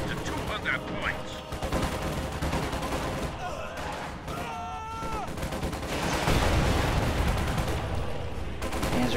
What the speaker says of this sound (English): Panzer Grenadiers are firing and take out a full squad